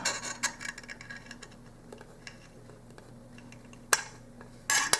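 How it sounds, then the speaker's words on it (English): A knife slices a small hard-boiled egg that rolls back and forth on a tray, making quiet, close scraping and rubbing sounds broken by a few sharp ticks and taps. "So just a matter of cutting these, kind of rolling back and forth as you cut"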